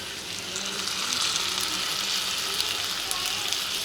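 Onions sautéing in a pan for kothu parotta, giving a steady, dense sizzle and crackle that runs unbroken from start to finish at close range with no talking.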